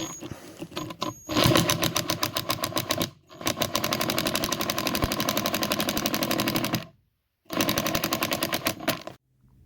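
A power driver sinks screws into a hidden hinge on a jon boat being converted to a bass boat, giving rapid buzzing bursts with brief pauses in between, close and steady.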